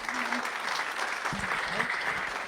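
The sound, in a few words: audience applause for the speakers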